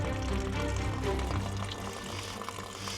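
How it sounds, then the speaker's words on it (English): Wastewater pours out of a campervan waste tank in a steady, rushing gush, close and continuous, with faint voices in the background. "Is it draining? Oh, I think I can hear water."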